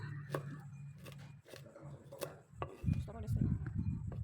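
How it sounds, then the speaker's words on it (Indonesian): Green chili sliced diagonally with a knife on a cutting board, several close, crisp chopping taps followed by a heavier rustle of handling. "ini 1 buah cabai hijau, diiris serong"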